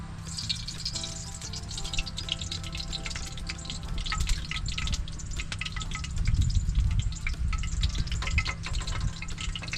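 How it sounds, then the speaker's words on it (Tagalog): Eggplant frying in a pan in an outdoor farm setting, with a soft, continuous crackle and sputter of oil over low background hum, no talking. "Tayo naman po ay magpiprito ng talong."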